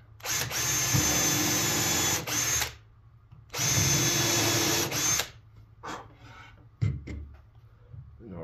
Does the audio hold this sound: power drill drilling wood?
yes